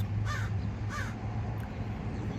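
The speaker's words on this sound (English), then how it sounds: "Even the crow's telling the truth." A crow caws twice in quick succession, the harsh calls standing clear above a steady low hum, with no voices.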